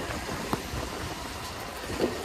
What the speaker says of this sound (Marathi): पाऊस आपला रौद्र रूप दाखवतोय.